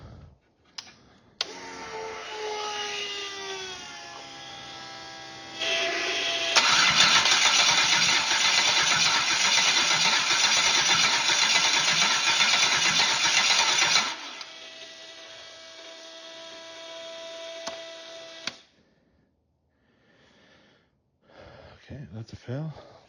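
A 6LDBW engine being cranked in a failed attempt to start: a rising whine, then a loud steady grinding crank for several seconds that cuts off, followed by quieter mechanical noise and brief talk at the end.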